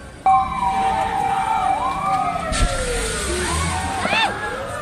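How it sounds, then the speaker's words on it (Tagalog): A fire truck siren wails loudly at a market fire, sweeping up and down in pitch, with a sudden explosion partway through. "Sabay sa pagresponde ng isang fire truck"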